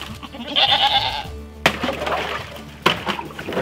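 Goats bleat in wavering, nasal calls close by, with a couple of sharp knocks or clanks breaking in between.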